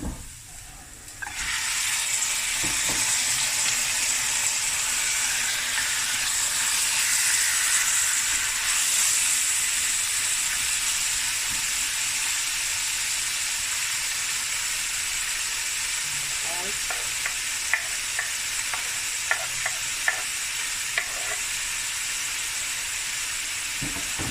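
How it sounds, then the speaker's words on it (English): Lamb meat browns in a pot for a butter bean and lamb curry. A steady, close hiss of sizzling fat lasts the whole time, with a few soft stirring knocks near the end. "I'm just gonna brown and braise the meat so for 15 minutes."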